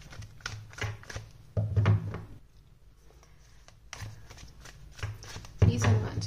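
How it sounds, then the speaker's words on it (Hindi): Tarot cards are shuffled and drawn, giving bursts of crisp riffling and slapping card sounds separated by short pauses, close and fairly quiet, with someone speaking softly between them. "तब तक मैं आपके कार्ड्स निकाल रही हूँ यहाँ पे"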